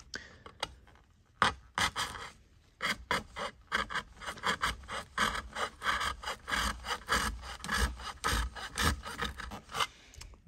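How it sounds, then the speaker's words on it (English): Hand saw cutting through the metal body of a 1:18 Maisto diecast Chevy Bel Air model car, a close, steady run of rhythmic rasping back-and-forth strokes after a few brief scrapes at the start. "I'm just going to do it with the saw for now."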